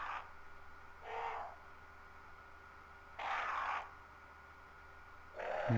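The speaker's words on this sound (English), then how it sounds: "Sounds like a bird." A bird call in the Resident Evil video game, three separate low hooting calls spaced a couple of seconds apart over a quiet, faint ambient hum.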